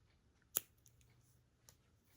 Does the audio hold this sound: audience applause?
no